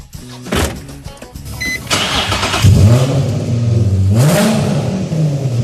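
A car engine with no exhaust and a straight pipe cranks, starts and revs loudly up close, rising and falling twice in a raw, unmuffled roar.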